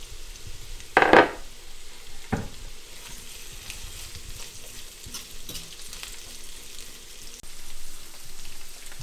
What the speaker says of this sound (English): I'm cooking this on medium-high just for a few minutes. I'm cooking it pretty hot, so it's cooking pretty fast